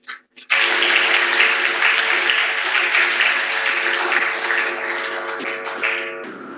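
Applause from the audience at a Nigerian Navy international maritime conference, a dense, steady wash of many hands clapping that starts abruptly after a brief voice, holds for several seconds, then thins slightly toward the end.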